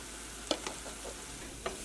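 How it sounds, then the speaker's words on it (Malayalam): Turmeric and coriander powder frying in a pan for a papaya curry, a faint steady sizzle broken by a few soft stirring scrapes, with no talking. "ഈ മഞ്ഞൾപ്പൊടിയും ഇങ്ങനത്ത് കിടന്നിട്ട് നന്നായിട്ട് മുരിയട്ടെ"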